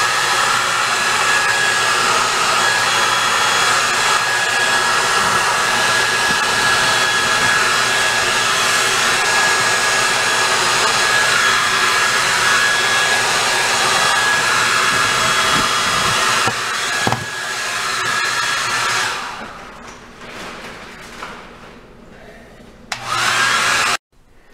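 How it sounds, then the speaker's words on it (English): A hair dryer blows with a loud, constant whooshing hiss for a long stretch while loosening peel-and-stick wall tiles, then cuts off and leaves brief quieter handling noises. "give your blow dryer a bit of a break. You don't want it to overheat."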